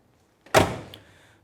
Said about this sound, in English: Doors shut perfect.